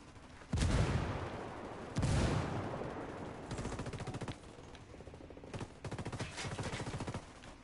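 Video game combat: a frag grenade blast and heavy gunfire arrive as two loud booming bursts, followed by rapid machine-gun volleys in separate stretches, close and harsh, with no talking over them.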